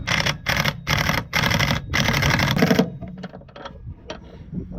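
Washer and nut being refitted on a Citroën C3 front shock absorber: loud, close mechanical rattling in rapid bursts for about three seconds, then quieter scattered clicks and handling noises.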